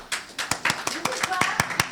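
A small panel audience at a farmers conference on urban and rural food systems claps in sparse, irregular hand claps, close and moderately loud, under faint background talk.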